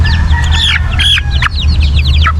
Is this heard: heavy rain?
no